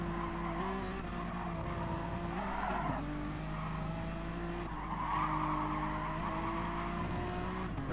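Race cars in a racing game lose traction coming off Malmedy at Spa, tires skidding and squealing over steady, droning engines for several seconds, without any voices.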